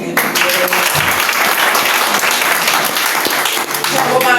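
Steady, dense applause from a church congregation fills the whole stretch, loud and close with a few cheering voices mixed into the clapping.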